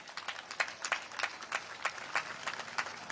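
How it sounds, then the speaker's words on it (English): Scattered clapping from a parade crowd cheers a disaster preparedness team, irregular claps rattling steadily at a moderate distance for a few seconds. "Let's give them a great big round of applause."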